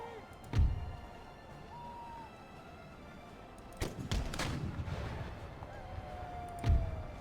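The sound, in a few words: artillery fire in the video game Empire: Total War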